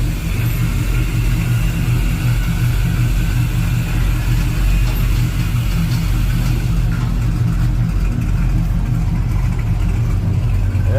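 An ice hauler truck idles at a muffler shop, its engine giving a loud, steady low rumble that holds for the full stretch, easing slightly toward the end.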